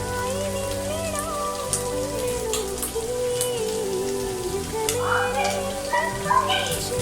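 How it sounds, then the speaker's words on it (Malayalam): Soy sauce hitting chicken fried rice in a hot pan, giving a steady, close crackling sizzle with some stirring throughout, and no voices. "സോയ സോസ് നമുക്ക് എങ്ങനെ ആഡ് ചെയ്ത് കൊടുക്കണം."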